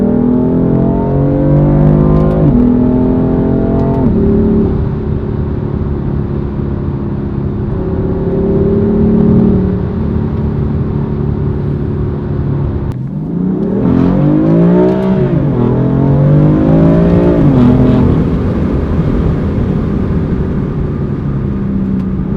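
A BMW M4 engine revs loudly and continuously, its pitch holding steady and then sweeping up and down in repeated rising and falling revs, with no talking.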